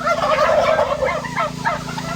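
Several farm turkeys, fed on clover and grain and ready for slaughter, gobble continuously, overlapping warbling calls close by and loud over a steady low hum.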